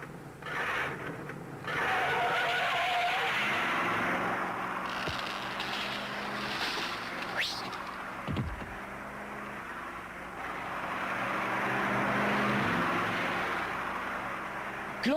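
A cartoon car drives along with a droning engine hum, rising and falling as it moves, and a quick sliding swoop like a skid partway through. The sound is moderately faint.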